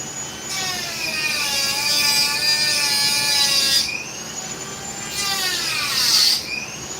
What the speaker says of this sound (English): it's going to be a little loud because I'm going to use my Dremel, so I'm going to cut it over here